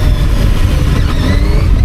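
A VOGE RR660 motorcycle engine held near idle and then given throttle, a loud, steady low rumble that builds slightly, continuous through the whole moment with no talk.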